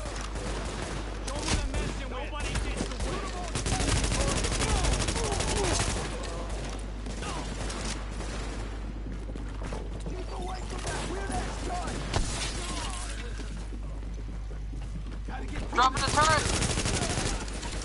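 Heavy gunfire in The Division video game, sustained bursts of automatic fire and shots mixed with game voices and players talking over the action.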